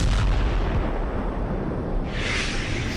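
Anti-tank missile strikes exploding against tank armour, a continuous loud rumbling barrage of heavy booms with a brighter crackling burst near the end, no voices.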